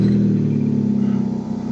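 A Hyundai or Kia car engine with a timing system fault, showing P0016, P0017, P0011 and P0014 codes, runs just after starting. It holds a loud, steady, close idle drone with a faint rhythmic pulse and no voices.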